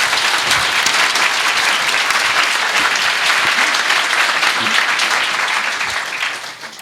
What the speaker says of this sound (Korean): 여러분들도 박수로.